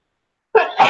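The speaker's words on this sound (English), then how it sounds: "Oh, I gotta sneeze." A single sharp sneeze bursts out close by after silence, with a second short burst following right after.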